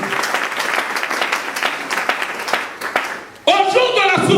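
A church congregation bursts into sustained applause, clapping loudly and continuously for several seconds before a voice cuts in over it.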